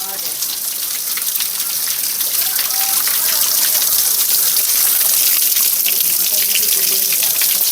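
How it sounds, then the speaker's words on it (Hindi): Spring water flows steadily from beneath a rock at a forest ascetic's retreat in Chitrakoot, a continuous close, bright trickling and gushing wash with no talking over it. "यहीं से साध्वी माता जल लिया करती हैं पीने के लिए पानी, ये देखेंगे यहाँ से जा रहा है।"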